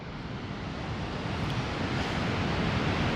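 Steady surf of ocean waves washing onto a beach, a continuous broadband rush that swells slightly louder toward the end, with some wind buffeting the microphone and no voices.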